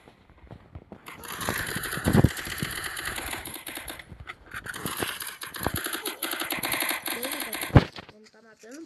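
Rapid bursts of Free Fire gunfire rattle over a busy mix of game sounds, with two sharp, louder shots standing out.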